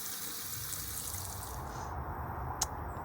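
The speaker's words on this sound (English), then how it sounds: "So just gonna wash this shrimps to put in my octopus." Tap water runs steadily into a kitchen sink while shrimps are rinsed for a Portuguese octopus salad, a constant close hiss with a small splash near the end and no voices.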